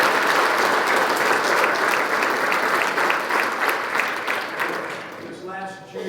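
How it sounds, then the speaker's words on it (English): Sustained loud applause from an audience at a high school football awards night, steady dense clapping that tapers slightly toward the end, with a voice briefly audible as it fades. "so I'd like to give them a round of applause for this"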